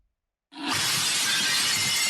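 Glass shattering effect for the Glass artifact in the video game Risk of Rain Returns: after half a second of silence, a loud bright crash of breaking glass bursts in and sustains as a dense tinkling spray to the end.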